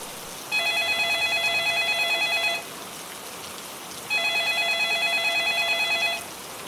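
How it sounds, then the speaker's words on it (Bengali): A mobile phone rings in two long electronic bursts of repeated tones, clear and close, over steady rainfall from a storm outside in a spoken horror story. "এমনি তার পকেটে ফোনটা বেজে উঠল।"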